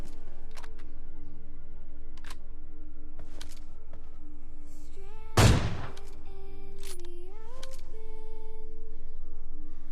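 A single sharp gunshot from PUBG Lite gameplay cracks out mid-clip over a steady layer of game ambience and soft tones, with no one talking.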